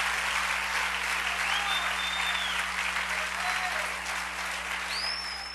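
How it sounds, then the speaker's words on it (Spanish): A church congregation claps loudly and steadily for several seconds, a dense wash of applause that tapers slightly toward the end, with faint voices mixed in. "Denle un aplauso al Rey. Fuerte el aplauso"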